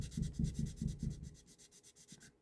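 A sanding stick rubs back and forth on the wing of an Eduard P-51B model plane kit, making about a dozen quick, rhythmic scratchy strokes, quiet and close.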